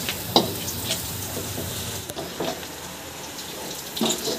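Onions and garlic fry in ghee for aloo karahi, giving a steady close sizzle with a few soft clinks and stirring scrapes throughout, no talking.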